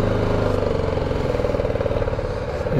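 A motorbike engine runs at a steady, rapid rhythmic idle, close and loud throughout, with its pulsing beat continuing without a break.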